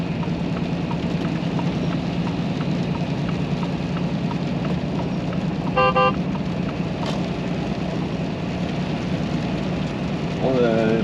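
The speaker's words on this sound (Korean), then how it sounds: "비가 주룩주룩 내리는 금요일이네요." Steady rain falling on a Friday, heard as a continuous dense hiss, likely from inside a vehicle, with a brief electronic tone and soft beeps near the end.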